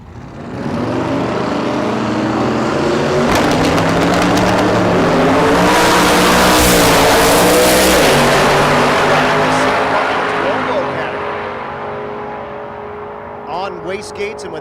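Drag racing cars launching down a dragstrip in a 9-0 category pairing, a loud roaring engine surge that builds and sustains for about ten seconds before receding, with commentary talk over it.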